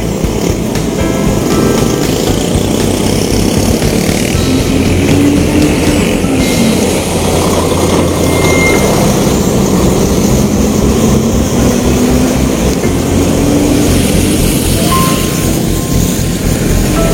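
An engine runs continuously with a loud, steady, low rumble and a rhythmic throb, its pitch drifting slightly up and down, with no talk over it.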